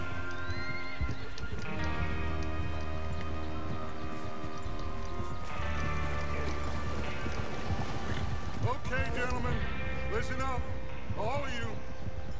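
Horses in the video game Red Dead Redemption 2 whinny and neigh over the clatter of hooves, with people talking throughout.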